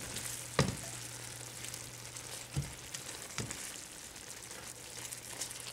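Food sizzles steadily in a pan on an indoor stove, with a few sharp scrapes and knocks of a stirring utensil against the pan breaking through the quiet, even frying hiss.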